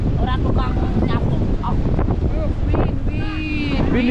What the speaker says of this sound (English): Windy. So windy,